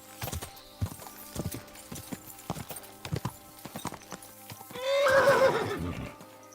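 A horse in the video game Kingdom Come: Deliverance II clip-clops with irregular, sharp hoof strikes, then gives a loud, drawn-out neigh near the end.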